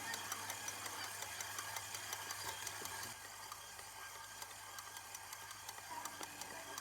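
Stand mixer motor kneading dough in the bowl, a steady mechanical whir with faint rhythmic knocking and rattle, constant and moderately close throughout with no talk.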